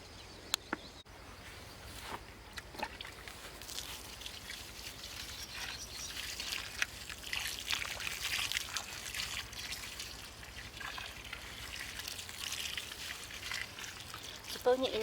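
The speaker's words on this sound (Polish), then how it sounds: "właśnie w tej chwili będę ją znowu przelewać 10 litrami wody" Water poured over a layer of sawdust compost gives a steady trickling, splashing wash that builds through the middle and keeps going. It is fairly close and moderate in level, with a few sharp clicks and no talking.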